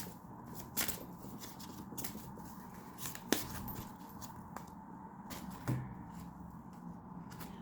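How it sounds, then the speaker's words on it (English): Tarot cards being shuffled and pulled, with soft riffling and rustling throughout, several sharp card snaps and flicks, quiet and close with no talking. "Let's pull another card and let's close it out."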